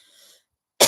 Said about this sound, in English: Why am I having a cough?